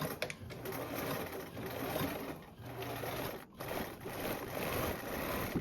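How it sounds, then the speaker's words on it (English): A sewing machine runs continuously at a steady hum, stitching the two short edges of a tote bag with a three-quarter-inch seam allowance, with a brief pause midway. "we're going to sew the 2 short edges with a 3/4 seam allowance"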